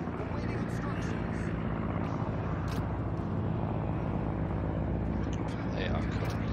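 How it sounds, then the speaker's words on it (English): Carrier planes from the T4 carrier Langley fly in World of Warships, a dense, steady propeller engine drone filling the mix, with a commentator talking over it throughout. "Still all planes, nearly no ammunition left, but you will attack the torpedo bombers now."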